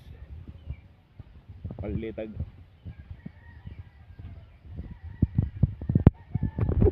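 Chickens cluck nearby, with one bird giving a short crow-like call, while a person talks over the farmyard sounds.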